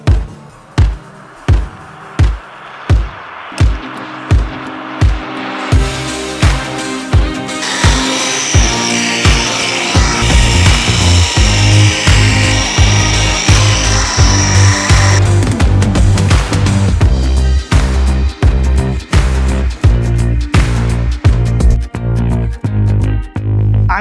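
A power polisher buffs a plastic car headlight with rough compound, starting as a string of short, rhythmic bursts that merge into a loud, continuous whir with shifting pitch, close by.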